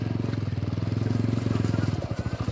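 A motorcycle engine runs steadily with a rhythmic pulsing thump while riding over a rough, broken road, close and loud throughout, the beat growing slightly uneven near the end.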